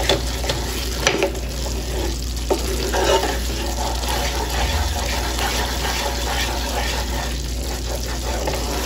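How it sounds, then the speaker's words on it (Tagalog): Glutinous rice (malagkit) stirred in a pan for suman, a continuous wet scraping and churning with occasional sharper clicks of the utensil, close and fairly loud with no talking. "pwede na natin ilagay yung ating malagkit. So, halo lang ng halo,"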